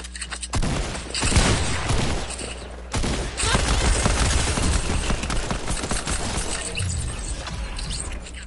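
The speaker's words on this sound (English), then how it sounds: "I killed him with a purple pistol, he's sad." Pistol gunfire in a first-person shooter game comes in rapid bursts of sharp cracks with mechanical clatter between, loud and close, pausing briefly near the start and again around three seconds.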